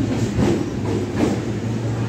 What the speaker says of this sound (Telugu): ప్లాట్ఫామ్ నెంబర్ 4 పైకి వచ్చింది మన ట్రైన్ అయితే.